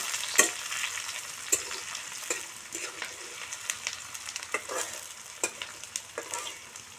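Onions and fresh green bay leaves fry in hot oil for a mutton curry, a steady low sizzle broken by sharp clicks and scrapes of stirring at irregular intervals, with no one speaking.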